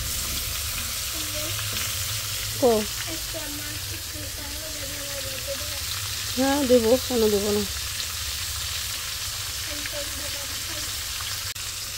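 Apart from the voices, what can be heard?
fish being deep-fried crisp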